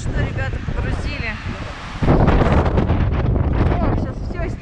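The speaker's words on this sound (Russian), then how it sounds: "О, сейчас все снесет, ветер такой." Strong wind buffets the microphone in heavy, roaring gusts in a Colorado forest, growing louder partway through, with voices faintly audible underneath.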